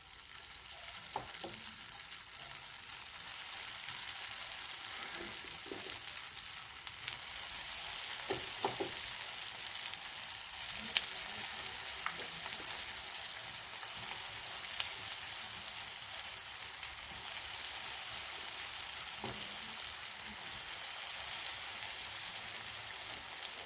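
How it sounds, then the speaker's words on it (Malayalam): Semiya ulli vada, vermicelli onion fritters shaped flat, sizzling in hot coconut oil in Kerala style, a steady dense crackle and hiss with scattered pops, close and continuous throughout with no talk. "ഇനി നമുക്ക് ഇത് എണ്ണയിലേക്ക് ഇട്ട് കൊടുക്കാം."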